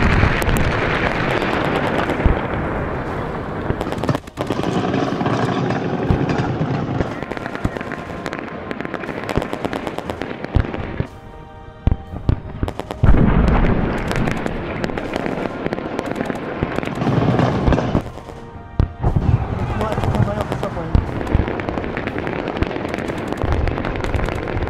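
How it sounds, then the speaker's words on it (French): Loud, sustained barrage of explosions and rapid gunfire cracking and booming in close succession, with echoing rumble between bursts, no voices. "Explosions and gunfire, a face-off across the bridge."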